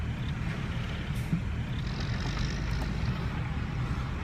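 A red Ford Explorer pulls away near the Laredo river crossing, its steady engine rumble continuous and moderately distant, with a faint hiss of wind and road noise and no voices.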